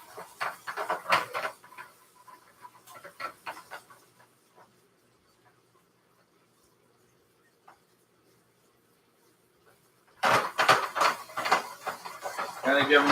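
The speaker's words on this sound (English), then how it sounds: "Kind of give them a little shake in the pan." Frog legs are shaken and moved around in a hot frying pan, giving bursts of clattering sizzle at the start and again near the end, with a quiet stretch between.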